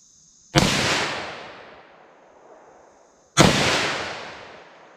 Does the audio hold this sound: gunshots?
yes